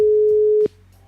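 A single steady electronic call tone from an Asterisk softphone on a laptop, loud and close, cutting off abruptly after about half a second and leaving faint low background noise.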